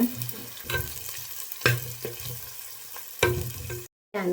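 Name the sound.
tempering spices sizzling in hot oil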